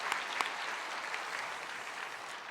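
A congregation claps during a Korean church Christmas thanksgiving service, giving a brief burst of steady applause with a few sharper individual claps near the start, fairly loud and without speech.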